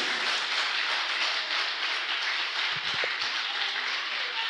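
A church congregation claps together in sustained applause, a dense steady patter of many hands, close and even throughout.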